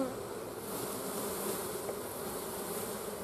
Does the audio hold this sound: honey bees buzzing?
yes